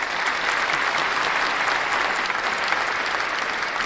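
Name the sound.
applause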